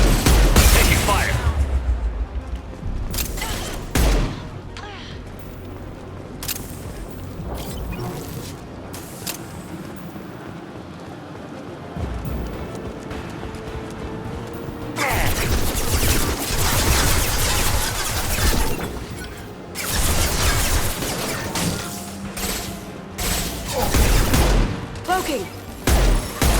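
Sustained bursts of rapid gunfire in the sci-fi shooter Mass Effect 2, loud and layered with booms and impacts, with voices calling out during the firefight.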